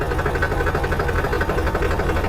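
A tractor engine idles steadily in first gear with the clutch released, a continuous low rumbling drone with faint knocking, close and loud throughout, no one talking.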